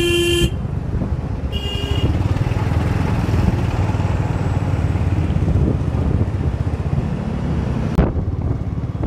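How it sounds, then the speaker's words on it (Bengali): A motorcycle rides over the Second Hooghly Bridge in morning traffic, with a constant engine and road rumble throughout and car horns tooting near the start and again briefly around the middle. "বাইকে করে দীঘা যাচ্ছি"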